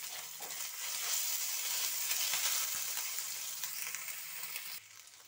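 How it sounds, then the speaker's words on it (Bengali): Spice masala of chilli paste, sugar and salt frying in a pan, a loud, dense, steady sizzle with faint stirring, the hiss dropping off abruptly just before the end. "মশলা একটু কষিয়ে নিয়েছি।"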